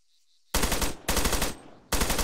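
Machine gun fire in the military video game Arma during a Zeus mission: three loud, close bursts of rapid automatic shots, each lasting about half a second, separated by short gaps.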